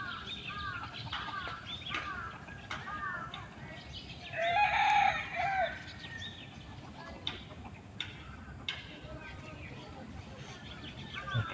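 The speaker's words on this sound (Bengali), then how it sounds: "অনেকগুলো মুরগি।" A flock of chickens gathered under a mango tree clucks repeatedly. A rooster crows once, loud and close, in the middle, over a faint background hum.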